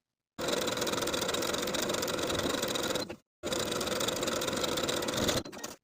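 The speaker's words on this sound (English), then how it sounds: "I'm going to edge stitch close to the upper inner fold all the way around the bottom of the garment" A sewing machine edge-stitching around the hem of a peplum top runs in two long, even bursts of rapid mechanical whirring, each stopping abruptly, close and loud with no talking.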